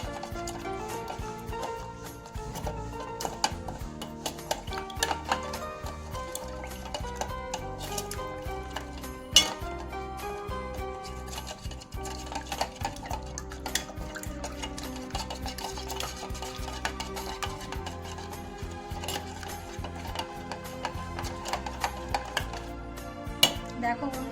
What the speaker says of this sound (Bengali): এবার ডিমটাকে ভালো করে ফেটিয়ে নেবো